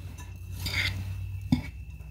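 Taco seasoning being stirred into a hashbrown casserole, a spoon scraping and clinking against the dish in a couple of short bursts, with one sharper knock near the end, close by and moderately quiet.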